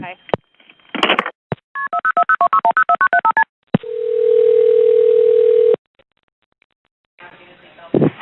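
Telephone keypad tones ring out as a rapid run of beeps, followed by a steady dial tone lasting about two seconds, with brief bursts of noise around them and no talking over the tones.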